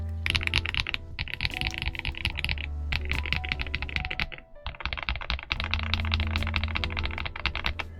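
Fast continuous typing on a Tecware Spectre75 mechanical keyboard, with dense clacky keystrokes close up, a brief pause midway and a steady low hum underneath.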